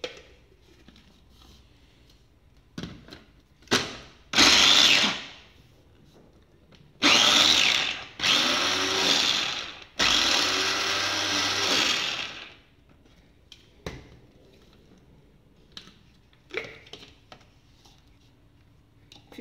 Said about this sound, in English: I am going to use my chopper here to finely chop my onions and the broccoli